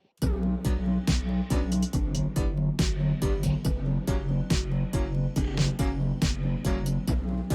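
Skank piano chords, a harp arpeggio and layered effects play together in a steady, rhythmic instrumental loop, with regular off-beat piano stabs sounding clearly and evenly throughout, no voices.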